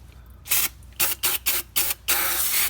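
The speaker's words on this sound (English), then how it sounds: "just spray everything out. Don't be shy." Cleaner sprays onto a Jeep Wrangler Rubicon differential in a quick run of five short hissing bursts followed by one longer spray, close and fairly loud, with no talking.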